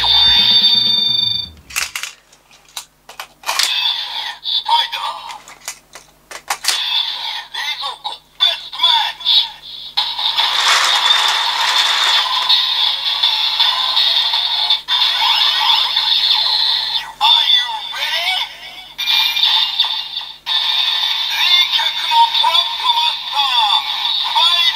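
Electronic toy sound effects play loudly from DX Pandora Panel toys loaded with Full Bottles, bursts of bright synthesized tones and noisy chimes changing every few seconds with brief gaps.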